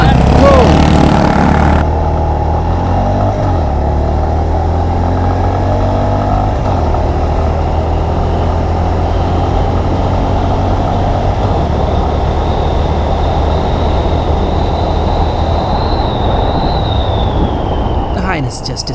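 A Royal Enfield Classic 350 and a Honda H'ness 350 accelerate away in a drag race, a steady engine drone that stays loud and even throughout, with a faint rising whine near the end.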